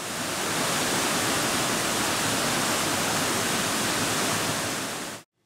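A clean river rushes through Black Mountain Valley in Chongqing as a loud, dense, unbroken roar of water that runs on steadily and then cuts off abruptly.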